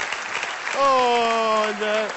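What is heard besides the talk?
audience applause on a TV show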